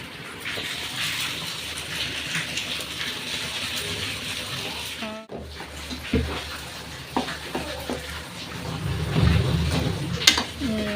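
Heavy rain falls in a continuous wash of splashing and dripping, with scattered clanks and knocks from kitchen work close by while dried fish chutney is being made, the noise swelling louder toward the end.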